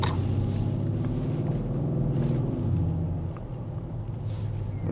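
A Mercedes-Benz GLE 63 S AMG Coupe drives with a steady low engine rumble under road and wind noise, continuous and near, not in Sport Plus mode.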